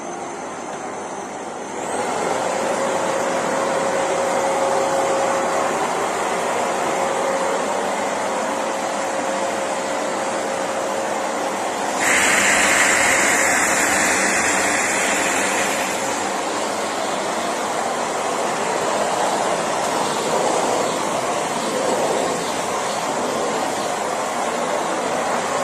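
Philips Series 3000 Performer Compact vacuum cleaner switched on to maximum power: a loud steady whine and airflow rush that starts after a quiet moment, then jumps to a harsher, higher roar midway and holds alone.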